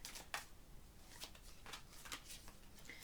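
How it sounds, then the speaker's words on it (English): A thick, stiff tarot deck being shuffled, with repeated riffling card bursts and soft flicks in quick succession, close and fairly quiet, with no talking. "the card that they've used is very thick, so it's actually quite difficult to shuffle them"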